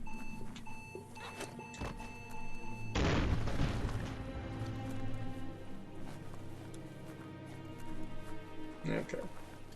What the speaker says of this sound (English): Escape the explosion.